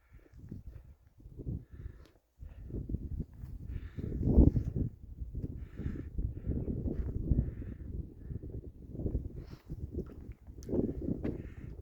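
Crows caw along a mountain trail on an Appalachian Trail thru-hike, harsh repeated calls mixed with wind and outdoor rumble, moderately close and fairly loud, with no speech.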